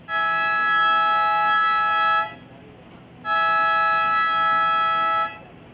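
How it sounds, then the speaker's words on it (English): A loud, steady electronic siren wails in two long blasts with a short gap between them, sounding clear and close, marking the end of a women's heat at a surfing competition. "that siren signals the end of the women's"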